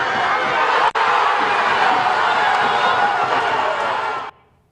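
Supporters of Verdão (Icasa) roar and cheer in a stadium after a win in the Campeonato Cearense, a dense, steady wall of crowd noise with one brief sharp crack near the start before cutting off.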